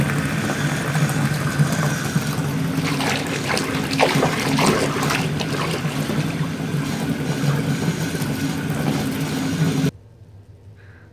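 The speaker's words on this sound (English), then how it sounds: "as I continue filling up the water" A bathtub fills from a running tap while a bubble bar dissolves under the stream, a loud, continuous rushing splash that cuts off abruptly near the end, leaving quiet room tone.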